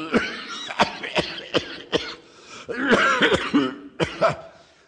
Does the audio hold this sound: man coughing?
yes